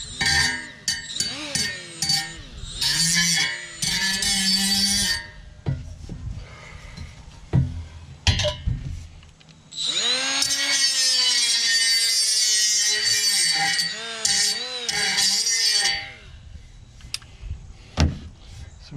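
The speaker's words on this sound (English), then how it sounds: "we're just gonna take the little lip off of here" An angle grinder cuts the lip off the exhaust pipe of a 1978 Buick Skylark in a garage, giving loud bursts of high whining and screeching, with pauses and a long sustained cut in the middle.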